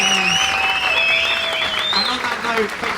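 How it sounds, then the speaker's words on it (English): A burst of clapping and cheering from a crowd at a Formula 1 driver Q&A at Silverstone, with voices calling out over the steady applause. "Round of applause for Laura."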